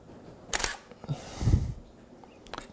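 DSLR camera shutter firing with a flash during a food photography shoot, a sharp click, then a softer second click and a longer whirring shutter sound, close and clear with no talk.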